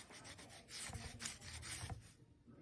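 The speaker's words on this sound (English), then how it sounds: "So I'm just sanding this edge so that when I put the bezel on," The edge of a polymer clay pendant is sanded by hand in short back-and-forth rasping strokes, close and fairly quiet, several rubs in a row before the sound drops away near the end.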